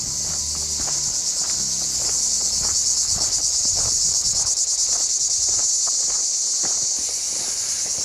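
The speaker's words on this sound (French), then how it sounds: "Écoutez le chant des cigales." Cicadas sing in a continuous, high, shimmering drone, with footsteps crunching along underneath.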